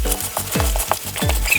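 Sumalak stirred in a pot, rhythmic repeated scraping and sloshing strokes of a paddle, close and steady with no voices.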